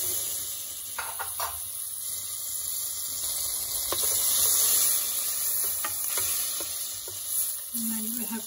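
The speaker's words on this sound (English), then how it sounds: "I'm putting a bit more butter in it." Butter melting into a pan of cooked tomatoes and onions for paneer butter masala makes a steady, close sizzle and hiss, with a spoon scraping and stirring at intervals and no talking.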